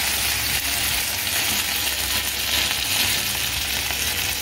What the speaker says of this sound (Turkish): Altı biraz kızarıyor yağına.